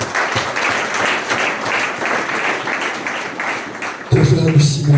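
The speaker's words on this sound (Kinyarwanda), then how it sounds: "Nimwongere mukomere amashyi menshi cyane." A church congregation applauds loudly and steadily with dense, continuous clapping that fills the space, then a voice joins over the tail end of the clapping.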